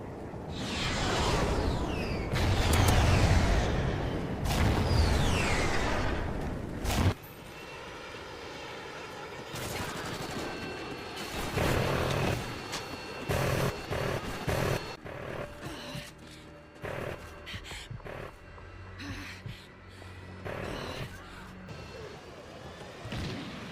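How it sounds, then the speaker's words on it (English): Harrier jet killstreak from the video game Call of Duty Ghosts: loud roaring jet engine passes and whooshes in the first seconds, then choppier bursts of engine noise and impacts that rise and fall. "Take a look and take a listen of these Harriers."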